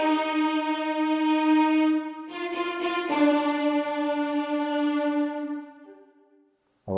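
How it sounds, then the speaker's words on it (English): Sample Modeling Violins 2 ensemble plays Beethoven's Fifth Symphony at high velocity with sharp, aggressive attacks: loud sustained bowed notes with brief accented bursts, heard alone, fading out near the end. "Violins 2, they sound like this."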